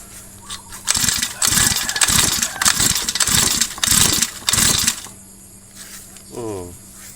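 A grass cutter engine with starting trouble revs hard in about five rapid, throbbing bursts, then drops back to a quieter idle. The engine is loud and close.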